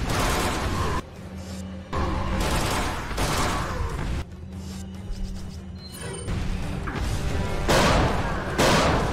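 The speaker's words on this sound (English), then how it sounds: "I'm gonna waste magnum ammo!" Magnum revolver shots boom in a Resident Evil 4 mod, with several loud, widely spaced blasts, each trailing off in a ringing tail, close and dominant, with a few quieter gaps between them.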